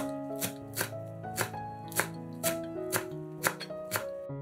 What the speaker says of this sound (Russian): Пучок укропа мелко нарезаем ножом.